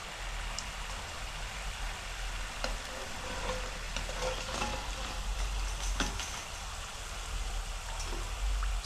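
Jangri batter frying in hot oil, a steady broadband sizzle and bubbling that runs throughout with occasional small pops and crackles, fairly close and continuous with no talking.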